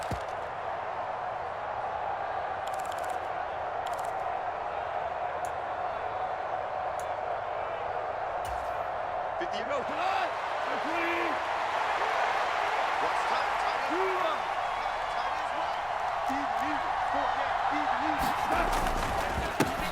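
Buffalo football stadium crowd roaring and jeering as a steady, dense wash of distant noise throughout, with a commentator's voice talking over it in the second half.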